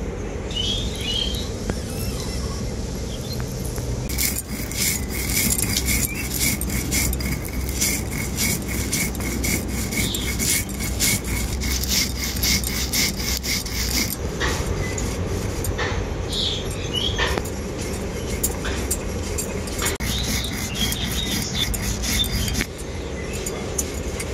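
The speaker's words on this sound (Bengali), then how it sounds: "এরপর শিলনোড়াতে খুব ভালো করে গুঁড়ো করে নেব।" Roasted cumin, coriander and fennel seeds being ground on a shil-nora stone grinder, a continuous close gritty rubbing and rasping with fine crackling and scraping strokes, steady throughout with no talking.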